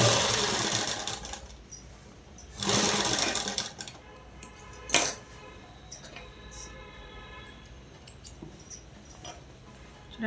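A domestic sewing machine top-stitches the shoulder seam of a dress in short, close bursts, with pauses of quieter rustling and handling noise between runs.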